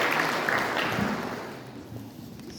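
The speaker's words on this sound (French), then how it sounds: "je vous demanderai encore une fois de l'applaudir" Applause from an audience at a book reading on the security of Morocco, a dense patter of clapping that starts fairly strong and gradually thins and fades toward the end.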